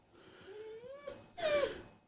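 Dogs whimpering inside a vehicle, a thin rising whine followed by a louder higher-pitched whimper, brief and close, with no talk.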